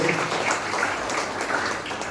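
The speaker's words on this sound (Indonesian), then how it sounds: "Yang percaya boleh berikan tepuk tangan buat Tuhan Yesus." A church congregation applauds after a sermon, a loud, continuous wash of many hands clapping together that stays even from start to finish.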